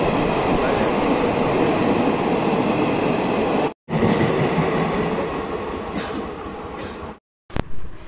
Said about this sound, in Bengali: আর এদিক দিয়ে অনবরত ট্রেন বেরিয়েই যাচ্ছে